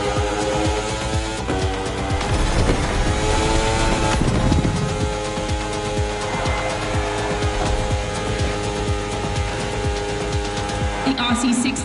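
A KTM RC16 racing motorcycle engine screams at steady high revs in a racing game, the tonal whine holding loud and continuous throughout, with shifts in pitch as it accelerates and a voice talking over it.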